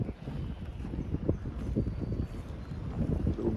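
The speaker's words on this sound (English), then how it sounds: "Little leftover wind from the blow yesterday." Leftover morning wind after a storm gusts steadily across the microphone at Breezy Point, a low continuous rumble with no voices.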